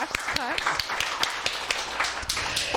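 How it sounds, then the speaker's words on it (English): At a comedy roast of Hasan, an audience claps in sharp, scattered bursts while a voice talks over the clapping. "Claps."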